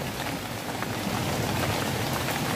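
Rain falling in a salak palm plantation, a dense, even patter of drops on leaves and ground, steady and close throughout with no voices.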